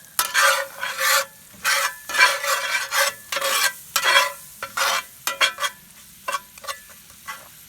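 A butter and flour roux stirred in a pan, with repeated rhythmic scraping strokes of a utensil across the pan bottom, close and fairly loud, bursts coming in quick uneven pulses.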